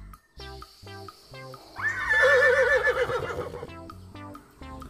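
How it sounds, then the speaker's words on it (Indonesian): A horse neighs in a long, loud whinny rising and wavering for about two seconds, framed by a bouncy cartoon-style music tune playing before and after in a children's animal toy setting. "ini ada kuda"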